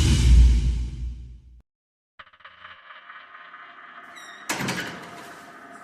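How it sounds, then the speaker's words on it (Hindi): A door opens with a brief whoosh and a sliding scrape after a moment of silence, followed by a louder burst of rattling noise, heard in a quiet indoor setting with no talk. "दरवाजा खोलकर बाहर आते ही युवराज को सुनाई दिया"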